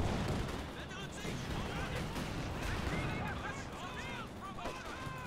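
Machine gun suppressing fire in Company of Heroes 2 crackles and rattles continuously through a dense battle mix, with distant explosions and a steady wash of gunfire under the action.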